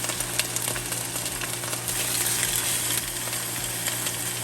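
Palomilla steak sears in a hot pan for Cuban bistec encebollado, a steady, close, dense sizzle that hisses on without a break and with no voices.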